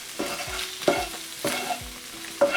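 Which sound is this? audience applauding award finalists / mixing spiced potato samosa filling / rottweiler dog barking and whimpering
mixing spiced potato samosa filling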